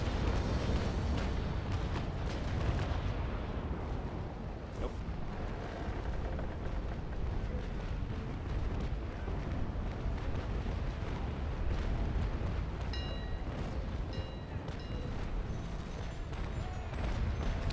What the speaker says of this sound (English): He's exploding.